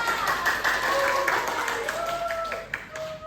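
Classmates in a school teaching session clap their hands together, a scattered round of claps mixed with overlapping children's and teacher's voices in a lively classroom.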